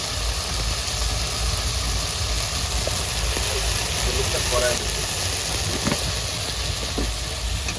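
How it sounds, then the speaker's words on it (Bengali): Spices with salt and turmeric fry in a pan for a bata fish curry, giving a steady, even sizzle and hiss that runs unbroken throughout at a constant level. "তো ভালো করে মশলাটা কষিয়ে নিই।"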